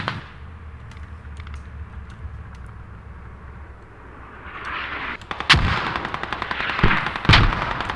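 Mortar rounds firing in the video game Squad, a series of loud booming launches that grow heavier in the second half of the clip, with several sharp blasts close together over a steady low battlefield rumble.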